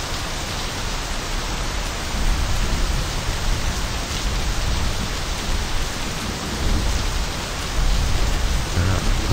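Heavy storm rain pours down in the My Summer Car driving game, a steady dense hiss of drops at close range with slight swells in intensity and no voices.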